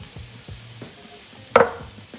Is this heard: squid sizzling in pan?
yes